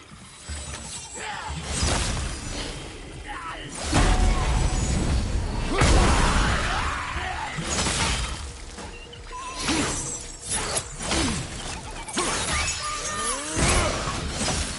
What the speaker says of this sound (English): I'll never get tired of shattering things with this.